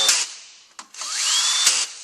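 A cordless drill snugs down bolts on a Subaru 4EAT transmission valve body in short bursts: a brief whir, a quick tap, then a longer rising whine as the motor spins up and holds, loud and close with no talk.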